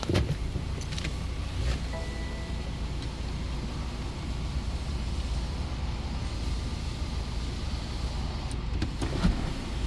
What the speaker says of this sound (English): Looks like the moonroof works normal.